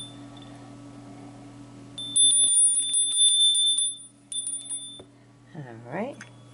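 A decorative bell with a lobster and Pine Tree State design, found at auction, rings in several bright, quick strikes over a steady background hum, then falls quiet as a voice briefly rises near the end.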